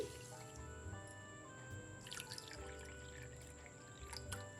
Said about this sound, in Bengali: এখানে আমি বড় এক বাটি চিনি নিয়েছি দিয়ে দেবো দু বাটি জল